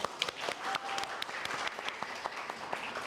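A classroom audience claps together at the start of a podcast recorded in front of a class, a dense, steady patter of many hands that runs evenly throughout at moderate loudness.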